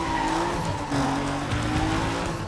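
Mitsubishi Eclipse in the Need for Speed Most Wanted game, its engine droning at speed while the tires squeal and skid continuously, loud and close with a wavering pitch.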